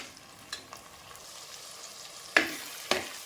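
Garlic, onion and tomato soften in a pan for garlic kuzhambu, with a faint, steady sizzle broken by a few sharp scrapes of a spoon stirring, close and without talking.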